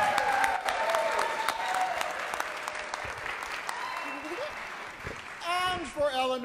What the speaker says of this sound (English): how about a round of applause for my little orphan Annie?